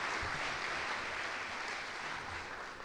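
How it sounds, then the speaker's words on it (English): Audience applause fills a hall at the 2023 Dutchies awards ceremony, a steady wash of clapping held at an even level from a distance before slowly easing off at the end. "give those folks a round of applause for their work in picking the winners for tonight"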